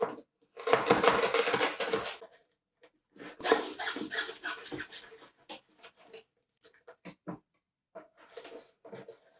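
A knife chops bruised lemongrass stalks on a cutting board in quick rasping bursts, with a long run of cuts, a pause, then more strokes and scattered single taps, close and fairly quiet.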